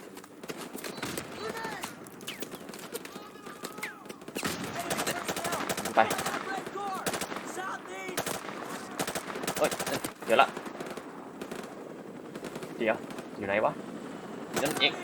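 Rapid automatic gunfire and single shots from the video game Call of Duty: Modern Warfare Remastered, loud and sustained in bursts across a chaotic firefight, with a player talking over the action.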